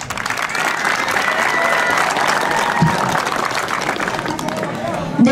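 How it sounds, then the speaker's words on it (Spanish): An audience at a school's 45th anniversary ceremony applauds the teachers, dense continuous clapping from a large crowd with faint babble and a few shouts mixed in, loud and steady throughout. "Un fuerte voto de aplauso para los docentes manqueños"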